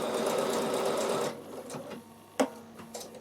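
A Bernina sewing machine stitches rapidly for just over a second, a dense close whir, then stops, leaving quiet room tone with a brief mechanical click.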